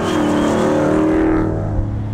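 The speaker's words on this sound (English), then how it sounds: "Get on the gas a little bit here and you'll see the pickup immediately." A classic Ford Mustang restomod pulls hard under acceleration, its loud engine roar filling the moment up close before easing off and fading slightly toward the end.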